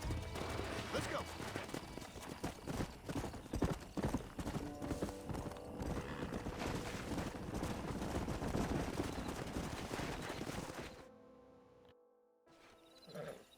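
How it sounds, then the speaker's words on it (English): Horses gallop in Red Dead Redemption with dense, rapid hoofbeats over a rough frontier soundscape. Scattered gunfire-like cracks mix in, then the sound fades to near silence before a short swell at the end. "We got some fine horses."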